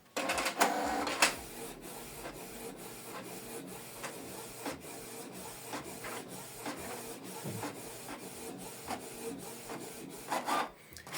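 A Canon TS3752i inkjet printer runs off a document, its feed and print head making steady rhythmic clicks and whirring passes for several seconds, close and alone.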